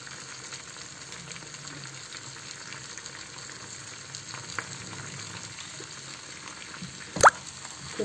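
Olive pickle mixture with salt, turmeric and cumin powder cooking in a pan, giving a faint, steady sizzle with soft occasional stirring and one sharp clink near the end.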